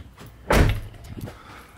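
A car door is pushed hard against a protective pad on a garage wall, giving a single dull thud followed by a softer knock, close by in a quiet garage.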